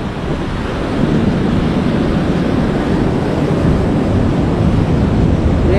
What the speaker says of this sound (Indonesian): Ombaknya ganas sekali nyampe ke sini dan berkumpul semuanya di sini ombak.